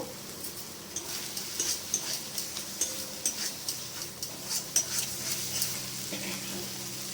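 Tomato and spice paste for a potato, cauliflower and prawn curry sizzles gently in oil while being stirred, with a steady soft crackle and light rhythmic scraping in a pan, close and moderately quiet.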